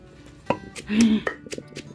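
A pestle thuds into a mortar in a home kitchen, pounding curry paste ingredients with shallots fine; a few sharp knocks sound close and fairly loud, with a voice briefly heard.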